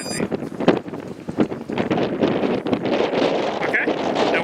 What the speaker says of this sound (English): Very windy